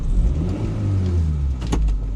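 A four-wheel-drive car converted for drifting gives a steady, close engine rumble that swells slightly as drive is engaged, running continuously without speech.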